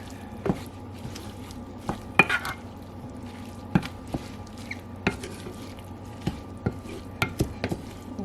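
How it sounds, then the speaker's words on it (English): Spinach and shrimp filling for stuffed pasta shells being stirred in a bowl, with scattered soft clinks and scrapes of a utensil against the dish in an irregular rhythm, fairly quiet and close. "I'm just gonna give it a nice little mix."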